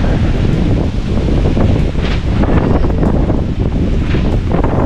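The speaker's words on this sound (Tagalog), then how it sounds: "Wala siguro masyadong naliligo ngayon dito mga ka-Franstar, no? Dahil malakas ang hangin." Strong wind at Bacong Beach in Bohol buffets the microphone in a loud, continuous roar with gusting swells, a faint wash of surf beneath, and no clear talking.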